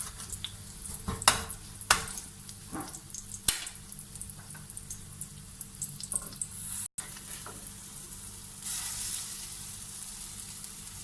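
A Korean-style sandwich fries in a pan with a steady, close sizzle, broken by a few sharp clicks and scrapes of a utensil against the pan; no one speaks.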